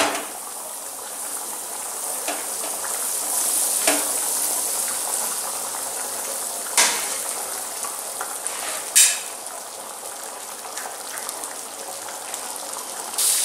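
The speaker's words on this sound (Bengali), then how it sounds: "ব্রেডগুলো ফ্রাই করে নিলাম" Pav bread fries in butter on a tawa with a continuous close crackling sizzle and a few sharper pops and scrapes along the way, with no one speaking.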